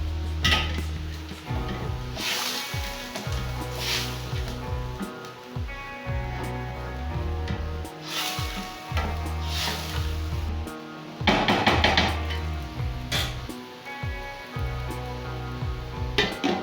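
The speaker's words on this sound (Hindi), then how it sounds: "इसमें 1 चम्मच लहसुन और अदरक शामिल करें और 5 मिनट तक पकाएं।" Garlic and ginger sizzle steadily while frying in a pan for a homemade chicken curry, with occasional stirring knocks and scrapes of the utensil against the pot; no voices.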